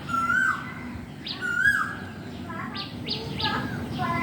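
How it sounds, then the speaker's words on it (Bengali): Several birds chirp and sing outdoors on a spring morning, with a cuckoo among them: clear repeated whistled calls and short tweets come from near and mid distance over a soft steady background, with no talk. "কোকিলের ডাক, পাখির কিচিমিচি খুব ভালো লাগে।"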